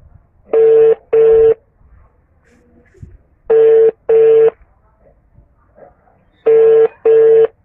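A telephone ringback tone sounds as an outgoing call rings unanswered, three loud double-pulse rings spaced evenly about three seconds apart with quiet gaps between.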